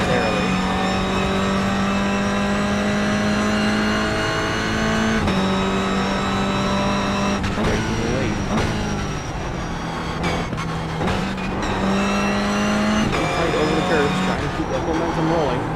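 Sim race car engine in a racing video game at the Long Beach street circuit, a steady loud drone whose pitch dips and climbs through downshifts and revs, with a commentator talking over it throughout.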